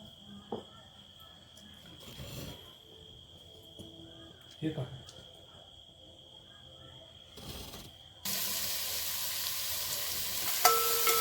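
Oil for a gravy base sizzles in a pan while ingredients fry until golden; after quiet kitchen clatter with a few soft knocks, a loud, steady frying hiss abruptly takes over and continues to the end.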